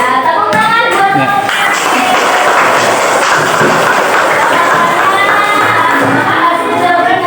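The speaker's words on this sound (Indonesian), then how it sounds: "Ya, tepuk tangan buat Ya." Schoolchildren in a classroom clap loudly together, joined by excited shouts and cheers, a continuous crowd burst lasting several seconds.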